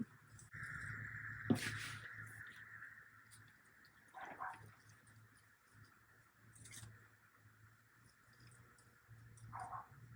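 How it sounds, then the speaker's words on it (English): A dog barks a few times, faint and well spaced across the stretch, over a low steady hum with no talking. "I may have to take my dog in. He's being obnoxious."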